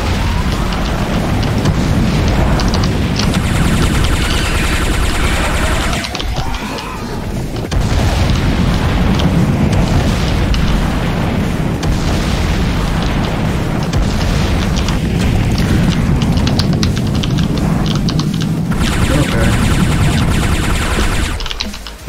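Projectiles fired and exploding in the game Bloodsugar, a loud continuous barrage of booms and blasts rolling on for over twenty seconds, with a brief lull partway through.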